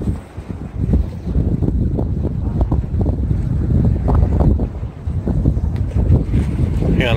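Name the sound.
wind on rough lake water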